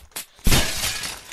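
Glass shatters loudly in the physics game Happy Wheels, a sudden crash of breaking panes with a bright, scattering tail that lingers for about a second.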